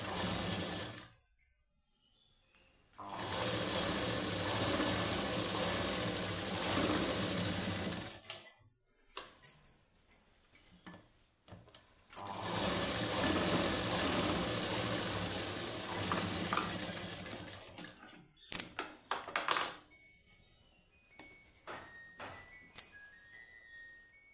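A sewing machine stitches the neck of a blouse in two long, steady whirring runs, with short pauses and soft handling clicks of fabric between them.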